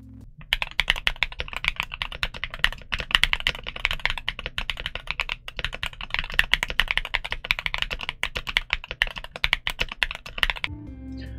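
Typing on a Luminkey65 keyboard with an aluminum plate and Gateron Sylva switches, a steady run of dense, close keystrokes with occasional heavier thocks, continuous for about eleven seconds and then stopping.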